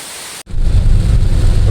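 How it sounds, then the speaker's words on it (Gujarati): A heavy rain downpour on a farm sets in after a brief cut at the start, then a loud, dense, continuous roar of rainfall with strong low rumble fills the rest. "વરસાદ ચાલુ થઈ ગયો જોરદાર ચાલુ થઈ ગયો"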